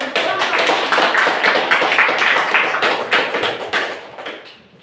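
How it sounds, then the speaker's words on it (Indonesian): A classroom audience claps together after a group presentation, a dense, close round of applause that holds steady for several seconds before tapering off. "Kita kasih tepuk tangan dulu."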